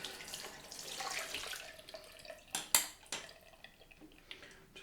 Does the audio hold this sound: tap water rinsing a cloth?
yes